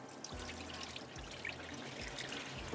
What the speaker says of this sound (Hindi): पानी इसका निकाल लेती हूँ।